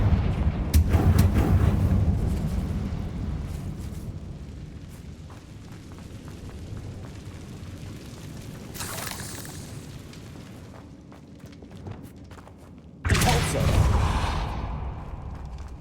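Confringo blasting spell explosions in the Hogwarts Legacy video game, a long rumbling boom that fades out, followed by two sharper bursts, loud and close, with a brief voice at the start.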